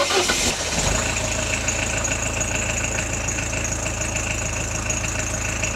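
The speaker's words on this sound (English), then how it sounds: "I just started up the Escort van" Engine of a Mk6 Ford Escort van cranks briefly and fires straight into life, then settles into a steady, loud idle that holds evenly to the end with no talking.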